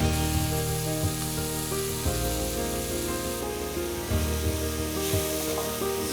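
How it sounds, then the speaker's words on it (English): Tomato tadka with masalas and coriander frying in a pan, a dense continuous sizzle close up, with brief stirring scrapes. "stir the whole thing and let the tomatoes cook nicely"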